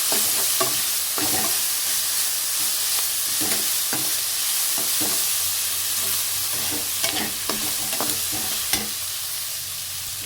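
Food fries in a pan with a continuous soft sizzle while a spatula stirs it, repeated scraping strokes coming at a loose, uneven rhythm close by.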